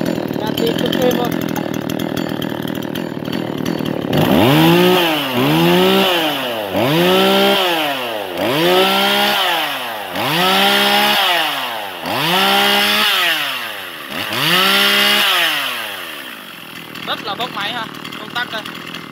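Tanaka 345 chainsaw from Japan revving in a steady rhythm, about eight loud rising-and-falling throttle bursts from near by, with a voice talking before and after.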